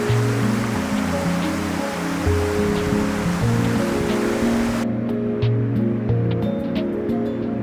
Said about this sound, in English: Pretty much almost at the waterfall now. I can hear it, it's getting pretty loud.